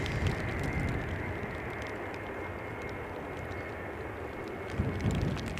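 A Finnair airliner begins its takeoff roll at Edinburgh airport in wet, gusty crosswind weather, a faint distant steady engine roar under wind and rain noise.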